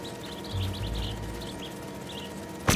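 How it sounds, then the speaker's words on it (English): A white-throated bee-eater in Marvel's Spider-Man 2 gives a series of quick, high chirps that come in short bursts over a low ambient hum. A sharp, loud burst cuts in at the very end. "The white-throated bee-eater bird."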